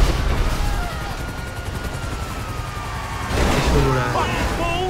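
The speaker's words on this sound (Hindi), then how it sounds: "हेलीकॉप्टर भी आ गया है, इसको भी उड़ाते हैं भाई जल्दी से" Game audio from GTA 5 with a droning rotor-like hum and scattered bursts of gunfire, busier toward the end; a helicopter engine sits under the noise.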